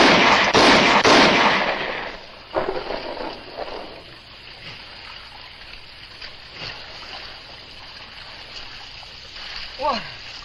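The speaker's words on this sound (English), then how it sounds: "Banner, look, we've got water" Water splashes in the 1956 western film Dakota Incident, a loud rushing burst for the first two seconds that fades into quieter, intermittent splashes and trickles.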